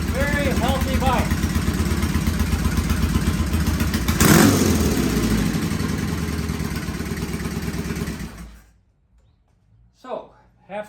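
Vintage British motorcycle started with a healthy half-throttle kick, its engine then running loud and close with a steady, clattery thump for about eight seconds before cutting out, followed by a few faint knocks.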